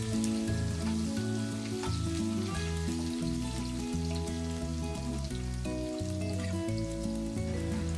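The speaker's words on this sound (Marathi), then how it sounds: "फोडणी करता हिंग टाकून घेऊयात. त्यातच ठेचलेल्या लसणाच्या पाकळ्या टाकून त्याला लाल कलर येईपर्यंत परतून घेतलंय." Asafoetida and crushed garlic cloves frying in hot oil for a tempering, giving a steady, fairly soft sizzle that runs beneath background music throughout.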